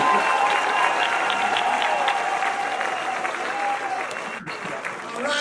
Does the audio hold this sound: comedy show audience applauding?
yes